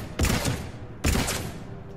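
Two sharp bursts of gunfire from the video game Mass Effect 3, spaced about a second apart, each loud blast trailing off into a short decay with no talk over them.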